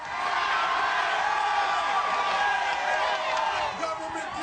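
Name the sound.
large crowd at the 9/12 march cheering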